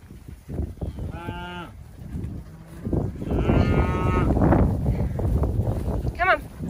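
Heifer cow lowing twice up close, one short moo and then a longer one, amid wind noise, with a person speaking nearby.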